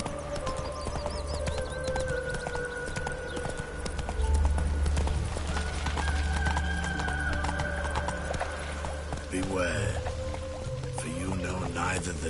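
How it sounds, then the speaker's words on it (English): Hoofbeats of a horse trotting in The Witcher 3 run steadily throughout, with a few neighs and rustling under game music, and no one speaking. "Whoa there, Roach. Let's go."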